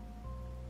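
Steady rain patters on surfaces in the Wuthering Waves game world as a continuous, even wash of noise with no pauses or voices.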